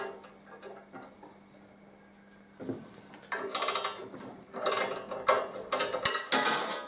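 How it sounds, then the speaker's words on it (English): Socket ratchet loosening a bolt on a Harley-Davidson Deuce during a trike conversion, starting with faint clicks and then bursts of rapid, close ratcheting that grow louder in uneven spurts. "I never got my socket on properly, so loosen it all back off."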